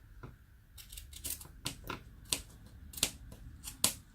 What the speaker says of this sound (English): I'm just going to cut off this excess